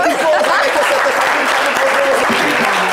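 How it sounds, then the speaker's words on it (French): Dense, steady applause from a studio audience fills the whole stretch, loud and continuous without a break. "révérend Marcoso que je vais vous demander d'applaudir encore une fois"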